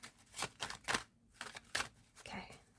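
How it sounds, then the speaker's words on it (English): Tarot cards being shuffled close up, quiet bursts of papery riffling and flicking in an irregular rhythm with short pauses, otherwise near silence. "Last shuffle."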